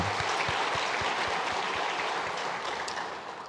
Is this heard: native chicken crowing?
no